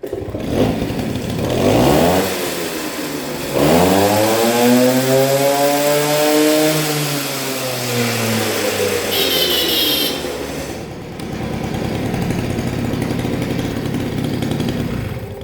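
A Peugeot 153 LVS moped engine runs at fast idle, a loud buzzing two-stroke drone that rises and falls in pitch with a sustained rev in the middle, close and alone without speech.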